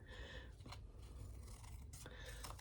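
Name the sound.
scissors cutting down one side of folded material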